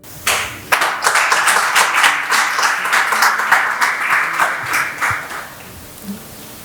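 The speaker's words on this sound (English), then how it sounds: "Please give a round of applause for all our participants." A hall audience breaks into loud, sustained clapping for contest participants at an English club TV show, dense and steady for about five seconds before thinning out.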